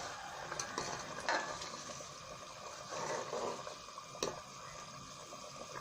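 Ground garam masala being stirred into simmering kali mirch salan, a spoon scraping and swishing through the bubbling curry in soft, uneven strokes over a faint sizzle, with no voices.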